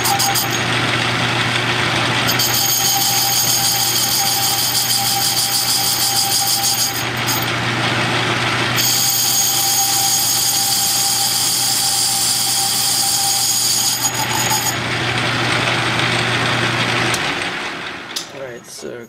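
A metal lathe takes light cuts on a steam engine stuffing box, a steady machine drone with a constant low hum and bright high whine running throughout, its pitch shifting between passes before winding down at the end.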